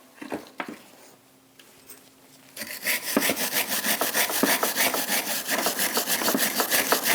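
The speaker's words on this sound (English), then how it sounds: "Taking a wire brush, we're going to clean where our tins are going to sit." A wire brush scrubs the brake mounting surface on a Chevrolet Express 2500 rear axle, making fast, rhythmic, close scratchy strokes that start after a few light taps and continue steadily to the end.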